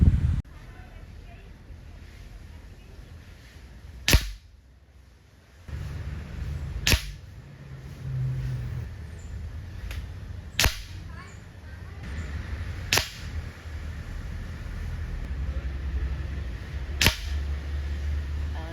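An air rifle fires H&N Field Target Trophy pellets at a 25-yard range, five crisp shots spaced a few seconds apart over steady outdoor noise and light wind.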